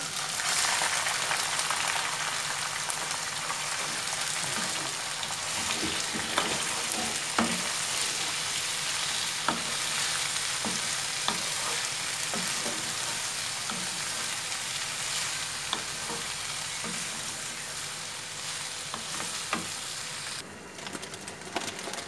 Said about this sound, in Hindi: गरम तेल में हम इसको ग्वार फली को थोड़ा सा भून लेंगे